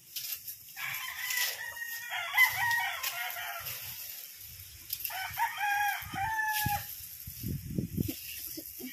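Roosters crow twice, the calls fairly near and moderately loud, with low clucking and faint speech-like murmurs between them.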